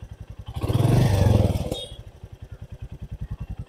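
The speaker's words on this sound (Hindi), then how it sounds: "अब मैं थोड़ा रेव भी करता हूँ इसको" Royal Enfield Meteor 350 single-cylinder motorcycle revving on its main stand, close by. The even thumping idle swells into a loud rev, then drops back to a steady pulsing idle.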